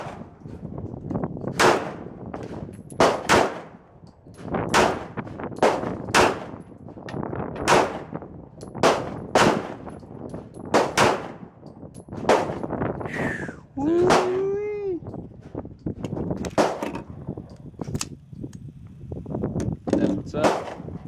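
A new 1911 .45 pistol fires at targets in a long series of loud, sharp shots at irregular intervals, some spaced and some in quick pairs, with people talking between the shots.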